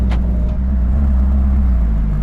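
A Ferrari California's engine runs close by with a steady, deep low rumble that stays even throughout this short stretch, and no voices are heard.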